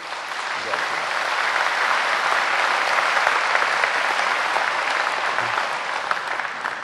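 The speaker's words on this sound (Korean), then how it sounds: "박수 한번 하라고 하는 겁니다" Sustained applause from a church congregation during a sermon, a broad, even roar of many people clapping together that holds steady at full strength throughout, with no voices over it.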